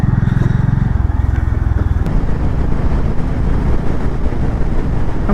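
Motorcycle engine droning steadily while riding on a road in India, loud and close with a pulsing low rumble and wind buffeting the microphone, the engine note shifting slightly after about two seconds.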